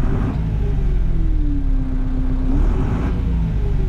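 A Case CS 94 tractor engine rumbles loudly and close by, heard from the cab with the engine-to-cab partition removed, a low steady drone whose pitch dips and then rises again.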